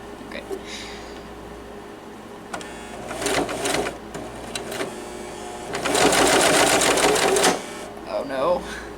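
A sewing machine stitches a purse lining in two bursts of rapid whirring, the second longer and louder, while a person talks close by.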